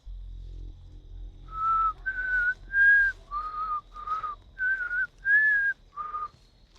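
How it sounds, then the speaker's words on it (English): Someone whistles a slow tune of eight clear, sustained notes with short gaps between them, heard alone over a low background hum in a quiet house. "Someone's whistling."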